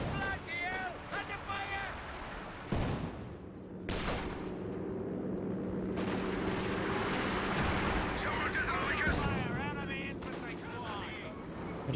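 Battle sounds from the Company of Heroes 2 video game: repeated gunshots and heavy cannon blasts crack over continuous combat rumble, with a commentator speaking over much of it.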